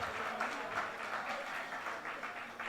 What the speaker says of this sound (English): They both deserve a great round of applause, and here's why.